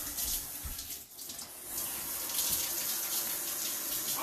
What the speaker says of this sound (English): let's wash our hands off quick